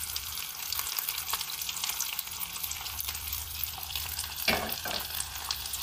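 Chicken wings pan-frying in sugar as it caramelizes, giving a steady, soft, close sizzle and hiss with an occasional brief scrape or stir.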